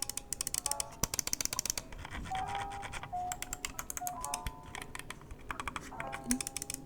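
Rapid, steady typing on a Razer keyboard with optical switches, with dense, close clicking keystrokes sounding alone throughout.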